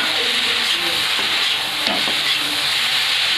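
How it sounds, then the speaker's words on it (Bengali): Noodles tipped into a hot pan and stir-fried for home-style chicken noodles with soy sauce and salt, a loud steady sizzle with scraping stirs and a brief clatter midway. "এবার নুডলসগুলো দিয়ে দিচ্ছি দেখুন"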